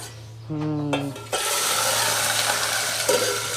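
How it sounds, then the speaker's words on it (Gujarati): Peas tipped into a pan of frying vegetable curry with potatoes and chillies, a sudden loud sizzle rising and holding steady with rustling stirs, after a brief stretch of voice and low hum. "મિત્રો વટાણા નાખીએ છીએ"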